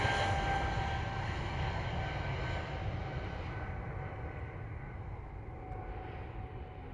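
A passenger airliner on final approach for landing in Jamaica passes overhead as a broad, rumbling engine roar, loud at first and slowly fading as it moves away.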